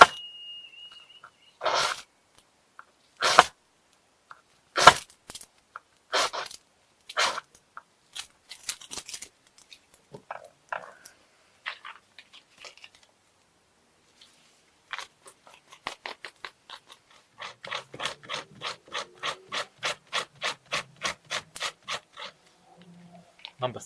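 A ferrocerium rod is scraped against a steel striker over birch bark, giving sharp rasping strokes: several spaced single scrapes first, then quieter scattered scratches, and finally a fast even run of short rhythmic rasps close up.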